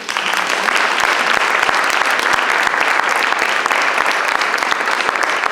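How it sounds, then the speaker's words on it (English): Dense, steady audience applause fills a celebration of service event hall, many hands clapping continuously and loudly without pause. "Another round of applause for this group."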